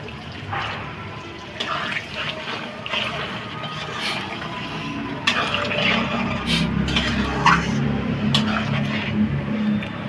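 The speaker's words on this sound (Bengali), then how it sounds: "গরম জল দিয়ে দিচ্ছি" Hot water poured into a pan of soybean rezala curry, a steady broad wash of liquid splashing that runs continuously through the whole stretch and grows a little fuller toward the end, with no talk.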